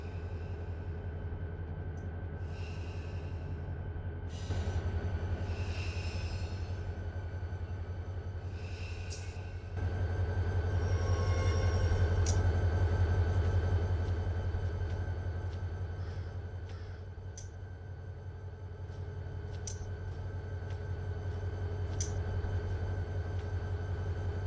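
ATSF diesel locomotive in the Run 8 train simulator, stopped at a level crossing, with a steady low engine drone and hum that swells midway, plus faint intermittent clanks and hisses.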